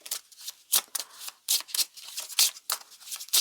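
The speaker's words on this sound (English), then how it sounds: "I'm shuffling." A deck of tarot cards is shuffled close up in quick, uneven bursts of riffling and slapping, separated by brief quiet gaps.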